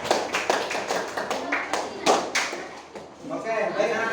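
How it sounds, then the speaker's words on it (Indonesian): Class applauding group 3 during a lesson at SMP Negeri 1 Banjarharjo, a school in Indonesia, with a burst of scattered claps from students in the room mixed with some talk. "Tepuk tangan buat kelompok 3."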